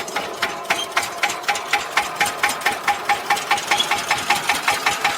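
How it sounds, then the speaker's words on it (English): An old dumper vehicle's engine runs with a rapid, even, mechanical knocking beat, close and fairly loud, the pulses steady and slightly quickening toward the end. "The vehicle starts reliably."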